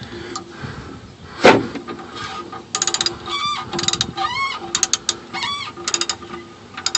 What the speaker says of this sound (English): today we're going to be using a 5/8 ratchet to take off the bolt